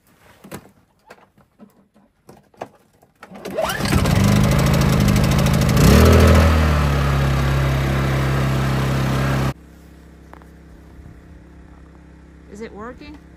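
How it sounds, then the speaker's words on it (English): A generator powering an off-grid cabin in an Alaska winter, struggling to pull a 40 amp load, starts up loud and steady, runs with a droning hum, then drops to a quieter level, with people talking over it. "generator was failing to pull the load necessary"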